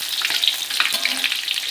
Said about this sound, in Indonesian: ini tahu kopongnya kita goreng semua saja ya